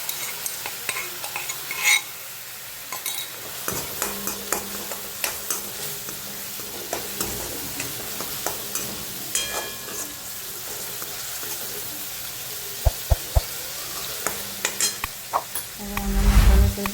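Green chili, garlic cloves and a little ginger sizzle in hot oil in a pan while a spoon stirs them, with a steady fry under repeated scraping taps and clinks of the utensil.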